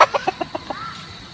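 A hen with five chicks clucks on a fighting-cock farm in Guinobatan, Albay, giving a quick run of about six close, sharp clucks that taper off into quiet background.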